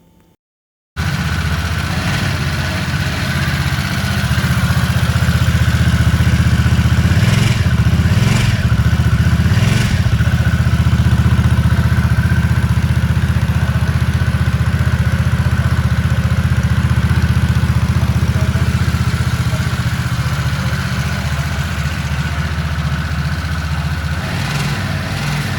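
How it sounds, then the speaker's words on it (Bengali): A Harley-Davidson Nightster motorcycle idles on its original stock exhaust, a steady, loud, close low rumble that holds for about 25 seconds after a short silence, with a few brief throttle blips partway through and no talking. "এটা ছিল বাইকের অরিজিনাল এক্সজস্ট সাউন্ড।"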